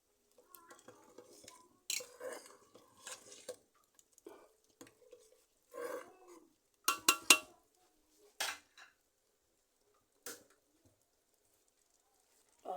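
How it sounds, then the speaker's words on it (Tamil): A spoon scrapes and clinks against a pot of potato porridge as it is stirred in scattered bursts, with quiet gaps between strokes and a bird calling faintly. "இப்படி கிண்டி கிண்டி கிண்டி கிண்டி கொதிக்க விடணும்"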